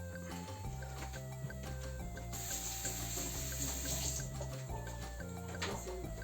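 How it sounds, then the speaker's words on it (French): Tap water runs steadily into a kitchen sink while hands are washed, a constant close splashing stream with faint clinks and shifting gurgles and no talking. "Je vais me laver les mains."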